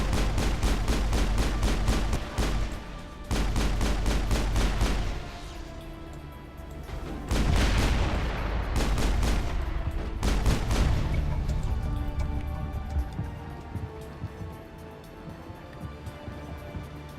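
Turret fire in the video game Mass Effect comes as loud, rapid bursts of automatic gunfire and booming impacts, fading into lower rumbling toward the end.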